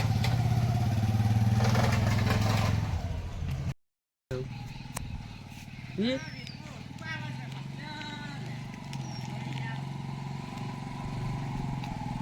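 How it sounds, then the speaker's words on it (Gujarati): A motorcycle engine drones steadily throughout, with a brief dropout early on and voices talking over the ride. "ઓહો તમે તો જબ્બર બાઈક ચલાવો છો ભાઈ"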